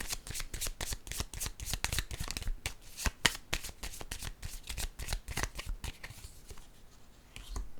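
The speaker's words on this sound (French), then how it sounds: "Allons-y avec une autre carte." A deck of tarot-style cards shuffled by hand, a fast, dense run of crisp riffling slaps and flutters, close and continuous for several seconds before slowing slightly.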